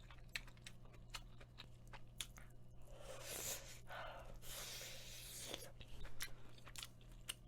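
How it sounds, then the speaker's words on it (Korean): Close, quiet chewing and biting of pork from Korean sundae gukbap and pork-bone hangover soup, with wet squishing and crunchy bites and soft nasal breaths coming in an irregular rhythm, and no talking. "고기 뜯을게요"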